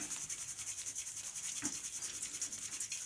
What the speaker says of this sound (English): now we can use a trusty colander to very lightly bury those seeds